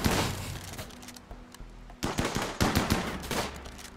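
A chain shotgun fires during a raid on a savage cannibal tribe colony in RimWorld. Rapid, punchy shots ring out in a dense burst, then stop for a moment and resume in quick succession.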